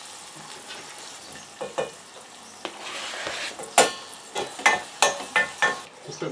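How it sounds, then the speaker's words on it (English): Garlic, chilli and frozen ginger sautéing in a pan, a soft sizzle broken by a run of sharp utensil scrapes and stirring knocks that grow more frequent toward the end. "Just let that saute for about 2 or 3 minutes."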